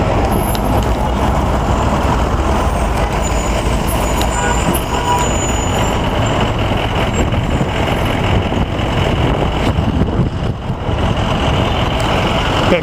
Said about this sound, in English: We got a trash truck incident going on here, folks.